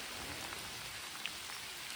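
Rain falls steadily on forested hills, a soft, even hiss of drops with the occasional closer patter and no voices.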